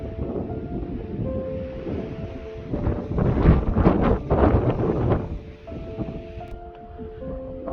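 Strong wind on an exposed mountain ridge in the Grayson Highlands on a cold morning, low roaring gusts that build and swell in the middle before easing off, with no talk.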